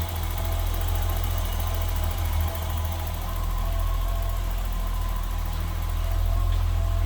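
A 1991 BMW 325i Convertible engine idles steadily with a low, constant rumble and faint mechanical ticking, nearby and unbroken throughout.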